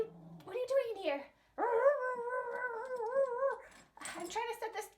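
Dogs indoors give whining, growling vocal sounds: a short whimper, then a long wavering drawn-out whine, then more yelps, all close and fairly loud.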